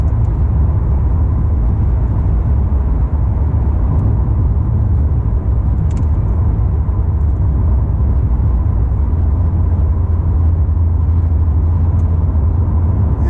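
A C8 Corvette on a sunny winter drive, heard as a steady low engine drone and road rumble from inside the car, constant and fairly loud throughout with no talking.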